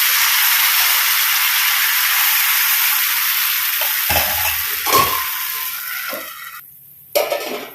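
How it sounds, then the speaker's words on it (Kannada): Ripe banana batter made with Eno fruit salt fries in a hot pan, giving a steady, close sizzle. A few soft stirring and utensil scrapes near the end break up the hiss. "ಎರಡು ಸೈಡ್ ಕೂಡ ಒಳ್ಳೆ ಫ್ರೈ ಮಾಡಿದ್ರೆ ಆಯಿತು"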